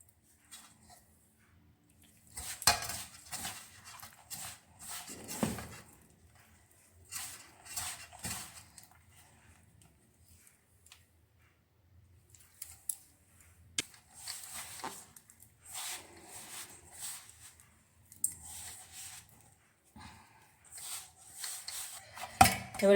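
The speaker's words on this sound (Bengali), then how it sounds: "অল্প অল্প জল দিয়ে আমি মেখে নেব।" Flour dough being kneaded by hand with small splashes of water for egg fuchka, slightly stiffer than luchi dough, in a home kitchen: soft irregular squishing and pressing in bursts separated by quiet pauses, close and moderately loud.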